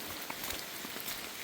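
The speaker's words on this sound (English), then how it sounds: "when it started raining like this, I just kind of wanted to keep hiking because I got all my rain gear on" Rain falls on a hiking trail during an Appalachian Trail thru-hike, an even, close hiss of drops with a few soft patters and no voices.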